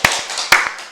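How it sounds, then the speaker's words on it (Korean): A few sharp hand claps from a church congregation at a Wednesday worship service, crisp and close, about three claps spaced across a single second. "우리 박수로 하나님께 영광 드리겠습니다."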